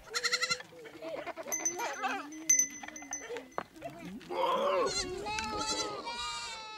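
Goats from a Samburu village herd bleat in the hills, several overlapping wavering cries near and far, with a narrator's voice and some clinking mixed in.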